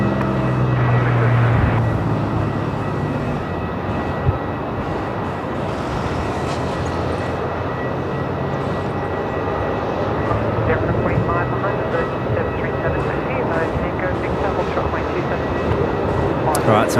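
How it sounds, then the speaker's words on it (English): Qantas Boeing 737 departing from a runway intersection at Melbourne Airport, bound for Sydney: a steady, distant jet engine rumble that holds throughout while voices talk over it. "Qantas 474 has just been cleared for takeoff. 737 making an intersection departure off to Sydney"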